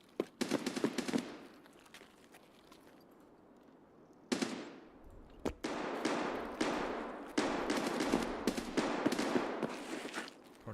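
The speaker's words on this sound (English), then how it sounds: "Who's shooting?" Bursts of gunfire in Escape from Tarkov, rapid automatic volleys and sharp single shots in irregular clusters, loud and fairly close, separated by a quieter stretch before firing resumes more densely.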